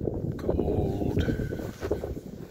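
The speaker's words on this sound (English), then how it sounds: "Cold and windy in Minnesota." Wind gusts and rumbles across an outdoor spot in cold northern Minnesota during a deer hunt, a steady low buffeting close to the microphone with no speech.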